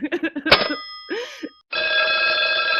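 A telephone bell rings in sharp bursts, loud and close, with someone speaking over the first part and the ringing continuing alone at the end.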